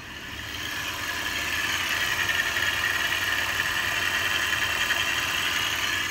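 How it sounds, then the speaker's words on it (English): A used 2001 Mitsubishi Montero Limited's 3.5L V6 with 161k miles idles steadily at operating temperature, a continuous mid-pitched engine drone with faint vibration, close and alone with no talking. "So the car has been idling for a few minutes now."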